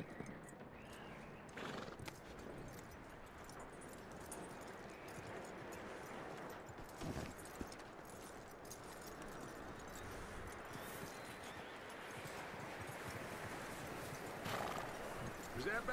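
In Red Dead Redemption 2, a horse whinnies and its hooves clop, heard faintly under a low ambient bed with someone speaking calmly to it.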